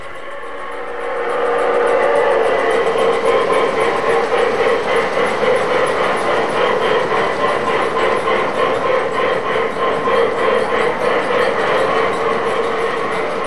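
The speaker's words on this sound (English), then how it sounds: "Here's our Rail King Union Pacific Big Boy with 40 cars behind the drawbar." An MTH Rail King model Union Pacific Big Boy 4884 locomotive hauls a long 40-car train, rising from quiet into a steady, loud rolling rumble with rhythmic clickety-clack of wheels on track, continuous and without talk.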